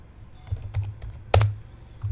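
Keystrokes on a computer keyboard as a command is typed into Windows 11, with several spaced clicks and one louder press near the end, close and alone with no voices.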